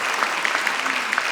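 An evening audience at an art talk applauds the catalog authors, steady dense clapping filling the room with a few sharper individual claps standing out, no voices over it.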